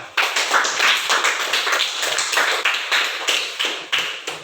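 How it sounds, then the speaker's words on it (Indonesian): Classroom students clapping together, a dense run of sharp overlapping hand claps with slight rhythmic pulses, close and steady for several seconds with no talk. "Bagus, tepuk tangan."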